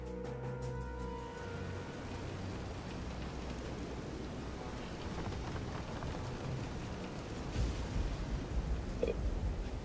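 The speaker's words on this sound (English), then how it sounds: "This is some storm." Storm in the video game Visions of Mana: steady heavy rain hissing throughout, with low rumbling thunder rolling underneath and a brief louder gust near the end.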